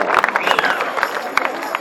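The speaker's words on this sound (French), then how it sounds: "Applaudissement pour Rico Cook" Spectators at a world championship mountain bike trial event applaud rider Rico Cook, with crisp claps and crowd noise over a busy outdoor atmosphere and a voice talking beneath.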